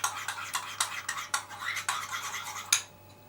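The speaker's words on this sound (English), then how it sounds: "Give it a mix up." A spoon stirs turmeric and apple juice in a glass, giving about eight clinking taps spaced through the stroke, close and clear, ending with a final sharper clink before quiet.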